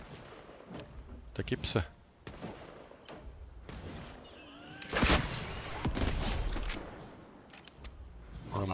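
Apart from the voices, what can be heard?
gunfire in the video game Fortnite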